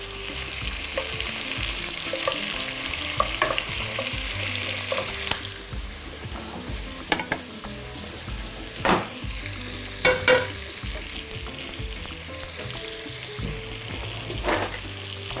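Mushrooms sizzling in a large frying pan on a gas stove, a steady close crackle with occasional louder pops and stirring clatter, no talking.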